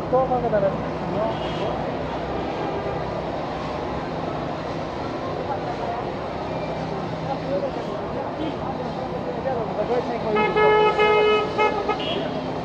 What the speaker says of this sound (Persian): بیش از حد آلودگی صوتی زیاد است